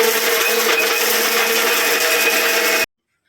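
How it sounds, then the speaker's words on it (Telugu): A kitchen mixer grinder whirs steadily while grinding coriander chutney, a loud continuous motor drone that runs for nearly three seconds and then cuts off abruptly into silence. "ఇది ముందుగా మనం మిక్సీ పట్టేద్దామండి"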